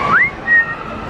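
Someone whistles two short rising notes, the first sliding upward and the second held steady, close and clear over light background murmur in a Disney World food court.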